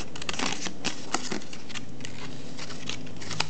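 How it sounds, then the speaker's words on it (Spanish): Sharp scissors cut paper pieces for Pepakura papercraft Robocop armour. Rapid, irregular crisp snips and light papery rustles sound close up, with no voices. "mientras tengan unas tijeras bien afiladas que no vayan a rasgar el papel"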